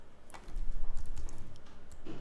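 Keys on a computer keyboard tap out a short name, with a quick run of soft, close clicks and no talk.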